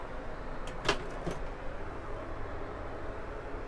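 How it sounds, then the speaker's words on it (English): The amenities drawer in a Qantas A380 first class suite slides open with one short scraping rasp followed by a softer bump, set against a steady low cabin hum. "There is an amenities drawer."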